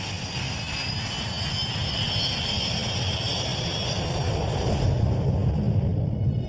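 Tupolev 154 airliner in flight at night, a steady broadband engine roar with a high whine, continuous and moderately loud throughout with no voices.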